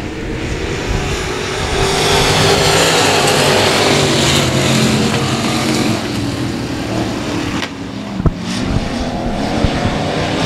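Street stock race cars roar around the dirt oval at Cotton Bowl Speedway in a loud, steady pack of engine noise, with a few sharp bangs near the end.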